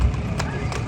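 Two quick hoof strikes of a horse clip-clopping at the Pushkar horse fair in Rajasthan, close by, with crowd noise behind.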